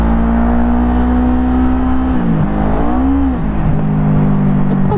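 Bristol Bobber 700 motorcycle with a big engine hums steadily up close, its pitch dipping and rising as the throttle is worked, a strong continuous drone with no talk.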